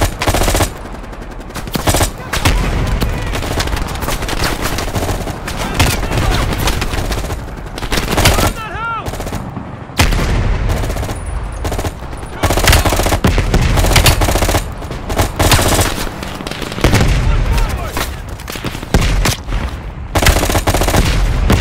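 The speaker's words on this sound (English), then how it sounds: "Followed the road right toward the sound of gunfire." Rapid bursts of automatic gunfire and single shots crackle throughout, loud and repeated, with brief pauses between volleys in a Call of Duty: Black Ops Cold War battle scene.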